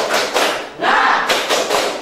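Indonesian group "tepuk semangat" spirit clap: a crowd claps in a quick rhythmic pattern, with loud bursts of hand claps and a short pause between groups.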